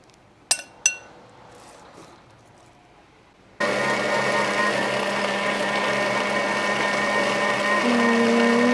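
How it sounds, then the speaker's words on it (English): An electric mixer starts up and whirs steadily while blending curd for keto cupcake batter, loud and close, after a couple of clinks of a utensil against a bowl. "So you're going to need to mix everything"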